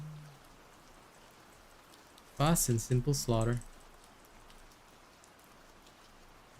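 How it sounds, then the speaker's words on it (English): Soft, steady rain hissing in the background throughout, faint and even, with a short burst of speech partway through. "Nice little rain sounds in the background."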